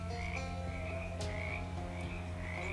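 Frogs croak steadily in the video game Shadows Over Loathing, with repeated ribbits over a constant low drone and no speech.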